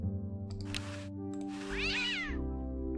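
A cartoon cat in Day of the Tentacle Remastered gives a drawn-out, rising and falling meow, close and clear, after a short burst of noise over a steady musical background.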